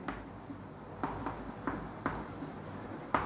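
Chalk or marker strokes on a board during a physics lesson on a charged particle in a magnetic field, a handful of close, soft taps and scrapes at an uneven pace, without speech.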